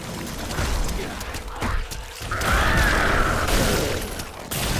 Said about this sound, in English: these explosions of the corpses is so good